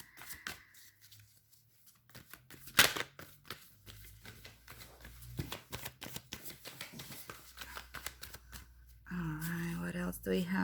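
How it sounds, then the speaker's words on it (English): Tarot cards being shuffled by hand, a quiet close series of riffling flicks and taps, with a voice speaking near the end. "I'm just gonna shuffle it here because it's much more comfortable."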